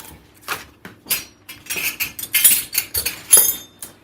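A metal teaspoon clinks and rattles against dishes and utensils during kitchen prep for Thanksgiving, with a quick series of close, bright taps and jangles.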